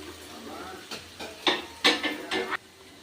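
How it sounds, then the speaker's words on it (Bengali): Cabbage stir-fried in a pan with ginger paste, green chilies and potatoes: a spatula scrapes and stirs in several close, distinct strokes that grow louder toward the end, over a soft sizzle. "আবারও বাঁধাকপিটাকে আমি আদা বাটার সাথে ভালো করে কষে নিচ্ছি"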